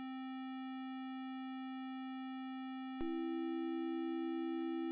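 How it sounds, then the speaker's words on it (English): A low-frequency oscillator pushed into the audio range sounds as a steady, loud sine tone through a modular mixer, holding one pitch alone before shifting slightly lower and continuing with a faint buzz. "when we patch this LFO, we will be able to hear it because it's now above 20 Hz"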